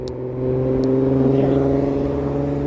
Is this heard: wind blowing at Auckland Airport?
no